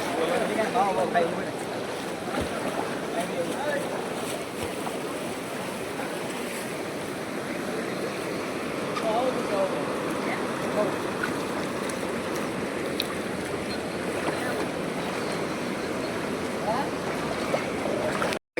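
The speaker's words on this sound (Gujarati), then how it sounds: "ત્યારે પુલ ઉપરથી પાણી જાય છે" Steady broadband rush of fast-flowing floodwater from a flooded river pouring over a bridge fills the whole stretch, with a faint voice now and then beneath the roar.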